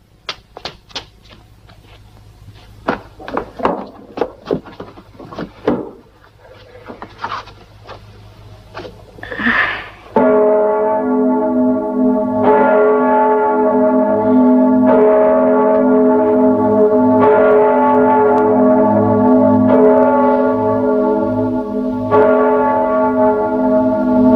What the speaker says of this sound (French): Sonne les cloches.